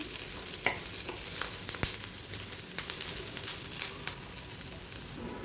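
Chopped onion roasting in a pan, a gentle steady sizzle with light intermittent scrapes and clicks of stirring, close up and with no one talking.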